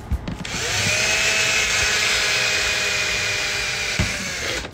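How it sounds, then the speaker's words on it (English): A power drill whirs steadily at a high whine for several seconds, drilling a hole in a Ford Raptor during a car audio install, starting and stopping abruptly, close by with no speech. "so I can drill the first hole"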